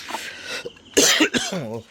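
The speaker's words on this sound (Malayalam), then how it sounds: "ചുമച്ചിട്ട് ഒരു രക്ഷയില്ല കേട്ടോ തണുപ്പ്" Several short, harsh coughs close by, one after another, followed by a brief strained vocal sound.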